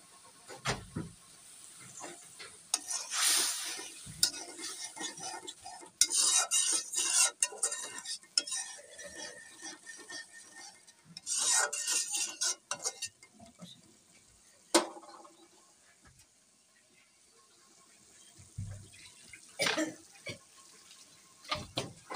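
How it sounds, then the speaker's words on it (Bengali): Fried dried chela fish being stirred into spice paste in a pan, intermittent bursts of scraping and clinking utensil strokes with quiet gaps between, near and fairly soft, no voices. "শুটকিগুলো দিয়ে নেড়ে চেড়ে মশলার সাথে মিশিয়ে নিলাম"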